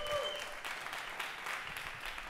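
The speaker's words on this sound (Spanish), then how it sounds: "Un fuerte aplauso para ellos." An audience at a Costa Rican music show bursts into applause, a dense wash of many hands clapping at moderate distance for a couple of seconds, with faint voices mixed in.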